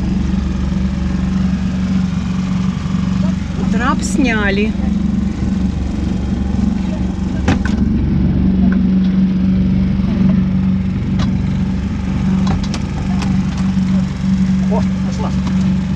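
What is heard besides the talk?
boat motor running to get off a sandbank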